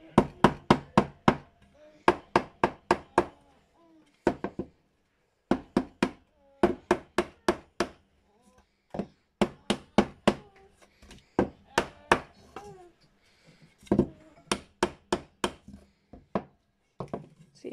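Sharp hammer blows on wooden stretcher bars, struck in quick bursts of three to six with short pauses between, loud and close against a quiet room.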